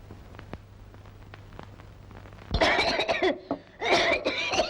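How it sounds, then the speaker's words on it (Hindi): A person coughs in a quiet indoor room, a short series of harsh, close coughs in two bursts after a near-silent stretch, with no talk. "खांसी ने तो नाक में दम कर दिया।"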